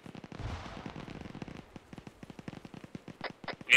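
Gunfire in the military shooter game Liberation, rapid cracking shots in quick irregular bursts, some distant and some closer, with a loud shot right at the end and no talking.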